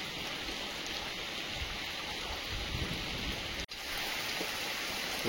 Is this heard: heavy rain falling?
yes